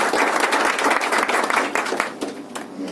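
An audience at an event in a hall gives sustained applause to welcome a speaker, a dense, fairly close wash of clapping that stays strong and slowly thins toward the end.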